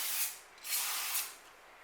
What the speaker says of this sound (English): Don't be shy with the spray.